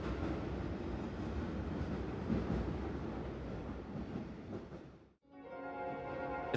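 Steady rumble of a video game train riding along the rails, a continuous rolling roar with faint clatter that cuts out briefly and resumes, heard alone without voices.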